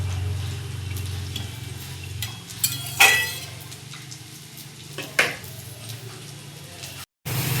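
Salted radish greens are stirred in a pan: soft, fairly quiet scraping and squishing, with a couple of sharper utensil clinks against the pan and a short gap of silence near the end.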